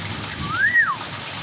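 Heavy rain pours onto a road, a steady, even hiss of splashing water running through the whole stretch with no pause.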